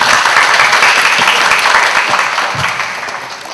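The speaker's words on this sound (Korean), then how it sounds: "큰 박수로 환영해 주시기 바랍니다" Loud applause from the audience at a book talk welcoming the author Matteo B. Bianchi and his translator, thick steady clapping that gradually fades toward the end.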